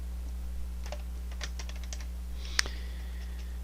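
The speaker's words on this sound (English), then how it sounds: "So just type in ArtStation" Someone types on a computer keyboard in a quiet room, a close, steady patter of light key clicks with one sharper keystroke near the end and no speech.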